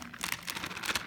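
A plastic bag is handled close up while baking soda is added for a lab experiment, giving a continuous crisp crinkling with quick bursts, no voice over it.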